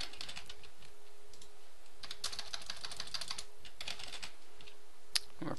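Quiet, close typing on a computer keyboard, clusters of quick key clicks broken by short pauses, with a faint steady hum underneath.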